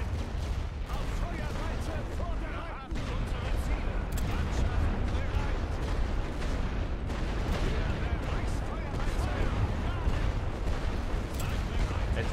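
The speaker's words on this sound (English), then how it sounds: "Really not enjoying this bombardment either." A continuous artillery barrage pounds through a World War I video game, The Great War, with dense overlapping booms and gunfire rolling without pause beneath occasional talk.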